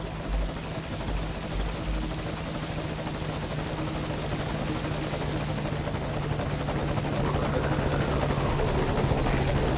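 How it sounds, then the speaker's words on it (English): An extraction helicopter in the video game Metal Gear Solid V: Ground Zeroes, with a loud, continuous rotor drone and engine hum throughout, growing slightly stronger toward the end. "the nice thing about having a private army is you get extraction choppers"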